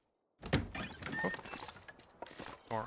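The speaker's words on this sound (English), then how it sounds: "Door opening in, blocking my path out." A door swings open inside a building in the survival video game The Long Dark, a few dull wooden thunks and creaks, fairly close and moderately loud.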